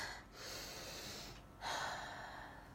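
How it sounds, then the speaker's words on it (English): A slow, deep breath drawn in and let out close to the microphone, a soft airy rush with a short pause before a stronger exhale. "Take a deep, long breath."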